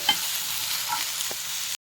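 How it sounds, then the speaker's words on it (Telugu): A steady, fairly loud sizzle of chutney ingredients frying in a little oil, with a faint stir or two, then it cuts off abruptly. "మనం చట్నీ గారితో చే చేసుకునేది కొంచెం నూనెలో వేయించుకుంటే టేస్టీ ఉంటుందని వేయించుకుంటుందండి"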